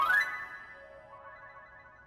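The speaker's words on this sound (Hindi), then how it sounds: "रुकिए, मैं करती हूँ फोन, मेरे पास नंबर है।" A phone ringtone sounds during an outgoing call, a single faint tonal ring that fades out, alone without talk.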